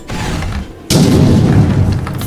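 A loud, booming bazooka blast erupts suddenly after a brief lull in the video game Destroy a Grandma, followed by a sustained rumbling roar.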